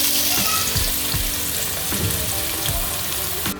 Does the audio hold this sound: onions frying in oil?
yes